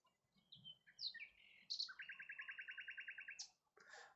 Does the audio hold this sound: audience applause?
no